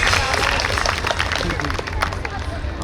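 An audience at a New York State Police special operations response exhibition gives a loud, close round of applause, thick clapping mixed with cheering and crowd babble throughout.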